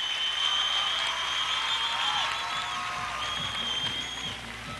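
Crowd applause in an arena after a Bulgarian pair's routine at the 1998 ANAC finals, a dense, steady wash of clapping with faint music tones, tapering slightly at the end.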